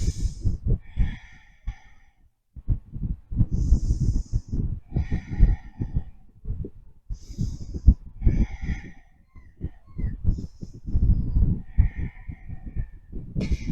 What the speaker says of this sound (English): I'm going to take 5 more breaths here.